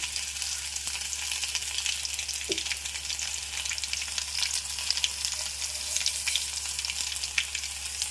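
Garlic cloves crackling and sizzling steadily in hot oil for a tempering, a close continuous frying hiss with small pops and no voices.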